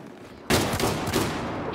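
Gunfire from the video game Battlefield 4 bursts out suddenly and loud, continuing as a dense rattle of rapid shots for over a second with no voices over it.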